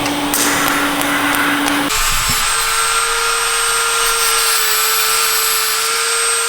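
A Miller Dynasty 200 TIG welder powering up and running, a steady loud electrical hum with a high whine that shifts tone once as it switches on and then holds constant.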